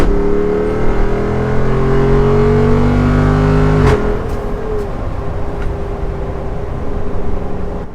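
A Jeep Wrangler 392 in Off-Road Plus mode revs hard and accelerates near Fort Myers Beach, a loud rising engine roar heard from inside that drops sharply at a shift, then settles into a lower steady drone.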